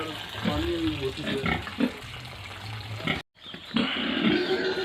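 A large pig, one being kept for a wedding feast, grunts and snorts close by in a farm pen, with low rooting noises, a brief dropout near the end, and a voice speaking over parts of it.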